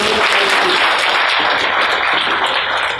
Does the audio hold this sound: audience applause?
yes